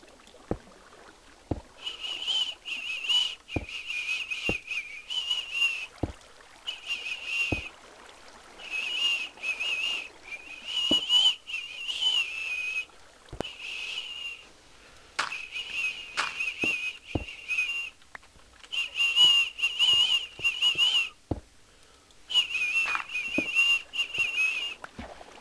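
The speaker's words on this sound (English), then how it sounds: "I can't whistle to save my life." A person whistles in short, repeated bursts of steady, fairly high pitch, pausing between phrases, with sharp isolated clicks scattered throughout and no speech.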